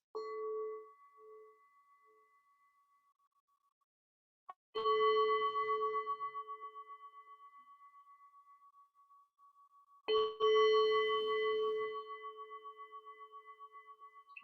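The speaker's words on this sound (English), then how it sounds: "The soft bell." A soft meditation bell rings three times at a calm, unhurried pace, each clear tone sustaining and slowly fading into silence before the next strike.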